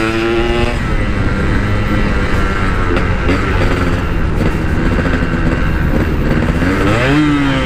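A Yamaha RX King motorcycle engine revs hard and steadily while slipped into neutral instead of a gear, its loud, buzzing note climbing in pitch near the end.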